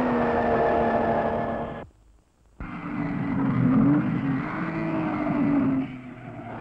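A 1953 Ferrari race car in the Mille Miglia climbs a mountain road, its engine roaring loud and close with a rising and falling pitch as it changes gear, broken by a brief drop to near silence.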